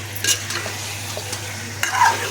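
Fish frying in hot oil is stirred in a pan, giving a steady close sizzle with a few sharp utensil scrapes and clinks against the pan.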